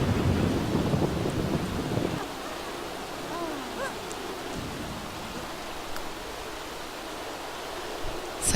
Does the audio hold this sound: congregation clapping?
no